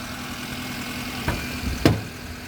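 A used car engine idles steadily in a low, even hum, with a couple of brief knocks or clicks near the end.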